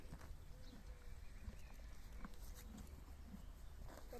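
Faint hoof clip-clops of horses walking on a hard surface sound at a distance, with low rumble in the background.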